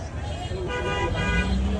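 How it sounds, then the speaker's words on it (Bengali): A loud, sustained police-style horn fitted to an auto-rickshaw wails with a siren-like wavering tone over road noise, starting partway through and holding steady to the end. "অটোর মধ্যে পুলিশের হর্ন লাগাইছে"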